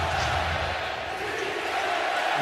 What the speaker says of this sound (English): And the familiar chants of beat LA